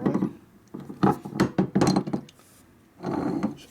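Sharp metallic knocks strike the rivets of a 1958-62 panhead motorcycle rear brake drum, several irregular close taps in a cluster followed by a longer ringing scrape.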